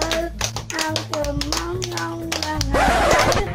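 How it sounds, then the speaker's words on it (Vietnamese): Children clap along in time while someone sings, with sharp rhythmic hand claps under a wavering singing voice, close and fairly loud, with chatter rising toward the end. "vỗ tay theo bạn mấy em"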